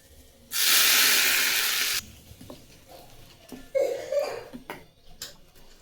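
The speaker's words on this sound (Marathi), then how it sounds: "आता ही फोडणी आपण ह्या चटणीमध्ये टाकून घेऊ" Hot tempering of cumin, mustard seeds and curry leaves in oil is poured into fresh coconut chutney, giving a loud burst of hiss lasting over a second, then quieter clinks and stirring sounds.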